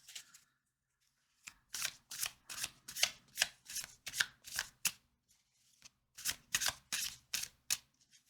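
A deck of tarot cards is riffled and shuffled in quick, crisp bursts, about a dozen papery flutters close to the microphone with brief pauses between, and no talking.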